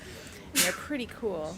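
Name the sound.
sneeze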